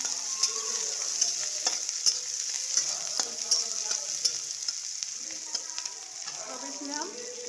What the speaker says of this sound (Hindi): अब हमको इसको अच्छा भूनना है।